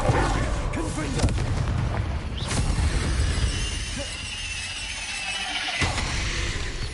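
Confringo fire spells bursting in the Hogwarts Legacy video game, a dense run of booming, crackling blasts with sharp impacts over a steady loud rumble, with faint talk now and then.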